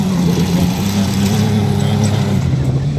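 A Ford Ranger compact truck races in a beater cross heat at Elk River, Minnesota, its engine droning loud and steady and close by for the whole stretch, with a faint voice underneath.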